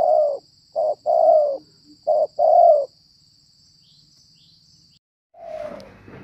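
A small turtle dove coos in a series of soft, rhythmic phrases close by, then pauses before one more coo amid a faint high background hum.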